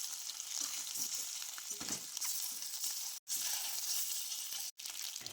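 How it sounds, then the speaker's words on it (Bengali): Eggs frying in hot oil in a pan give a steady, close sizzle with light crackle, broken by two brief silent gaps, and no voices. "আবারও সেমভাবে ডিমগুলো ভেজে নেব"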